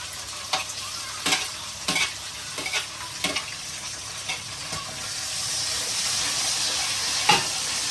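Chopped tomatoes are added to browned onions frying in a pan, with sharp scraping stirs and clatters early on that give way to a rising steady sizzle and hiss, with no voices.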